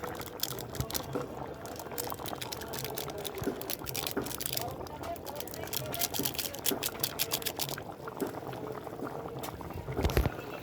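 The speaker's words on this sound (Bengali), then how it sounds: "পাঁচ মিনিট একটু ফোটাবো" Dhoka curry, a Bengali lentil-cake dish, simmers in a pot with a soft, continuous bubbling hiss and scattered wet pops, fairly faint and even, with a louder burst of bubbling near the end.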